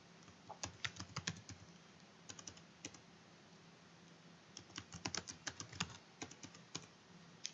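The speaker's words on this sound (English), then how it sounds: "So now I'm just typing in" Keys tapped on a computer keyboard in quick, uneven bursts of clicks with short pauses, entering text into an online form; quiet and close, with no talking.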